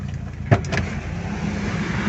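Car engine idling at about 800 to 900 RPM with an AC idle-up switch and digital temperature controller fitted, a steady low hum throughout, with one brief click or knock early on.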